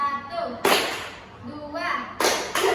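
Hand claps counted out in a group clapping game, three sharp broadband claps spaced about a second apart, with a voice speaking between them.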